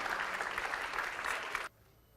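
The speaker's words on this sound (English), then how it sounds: "Can we have a huge round of applause?" Audience applause welcomes a chief guest at an exhibition and conclave, a dense, steady burst of clapping from a crowd that holds evenly for about a second and a half, then cuts off abruptly into near silence.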